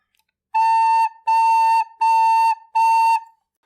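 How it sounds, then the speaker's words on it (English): Four A quarter notes on a recorder sound one after another, each a pure, sustained, close tone of equal length with brief pauses between, alone and clear. "This time the 4 quarter notes are all A's."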